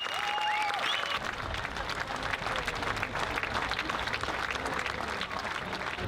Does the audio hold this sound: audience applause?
yes